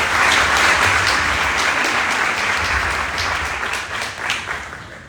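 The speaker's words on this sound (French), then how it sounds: "sous vos applaudissements" An audience at a Dakar city hall ceremony applauds the arrival of mayor Barthélémy Diaz with sustained, dense clapping that fills the room, easing slightly toward the end; no speech over it.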